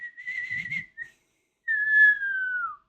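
A person whistles near a frequency-sensing smart relay under test, giving a short wavering whistle, a brief chirp, then a longer sustained note that slides downward at the end, close and clear with no talking.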